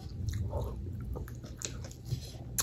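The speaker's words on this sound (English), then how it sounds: "I'm chewing on bones and stuff." Someone chews jerk chicken with bones close to the mic, wet crunching and biting noises continuing steadily and somewhat muffled, with no talking.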